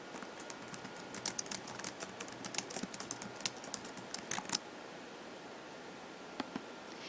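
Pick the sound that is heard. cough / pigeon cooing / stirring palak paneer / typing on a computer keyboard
typing on a computer keyboard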